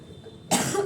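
A single sharp cough bursts in about halfway through after near silence, close and fairly loud.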